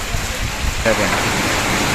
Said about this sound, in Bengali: বেশিরভাগে এমন বৃষ্টি নেমেই আছে